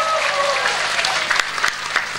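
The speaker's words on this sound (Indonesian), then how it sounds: "Tepuk tangan dulu buat Pak Lurah." Applause for a village head during a humorous Javanese religious talk, a steady broadband patter of clapping hands from an audience, fairly loud and continuous for a couple of seconds with a few sharper claps standing out.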